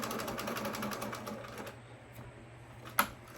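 Close sewing machine stitching fabric to gather a ruffle, a rapid rhythmic whirring that stops partway, followed by quieter handling and a single sharp click.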